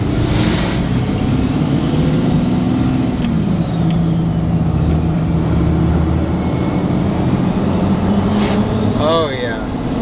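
A truck drives along with its gears engaged, a steady, loud engine and road drone filling the cab throughout, with a brief high whine near the end.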